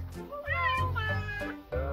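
A cat meows several times in quick succession, close and fairly loud, with rising and falling calls, near a small boat at the end of a paddling trip.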